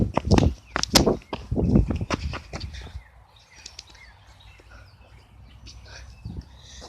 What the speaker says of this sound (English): Some birds around here.